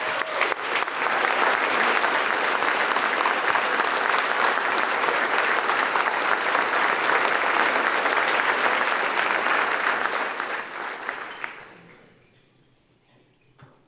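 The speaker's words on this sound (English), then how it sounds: "Let's give a round of applause to Kayla Daniels." Sustained, dense applause from a large audience at the Pro Football Hall of Fame Awards of Excellence show, loud and steady for about eleven seconds before fading out.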